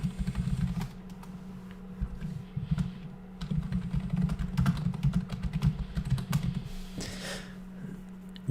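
Keys tapped on a computer keyboard in quick, irregular bursts of clicks over a low steady hum, close by and moderately loud, with no talk.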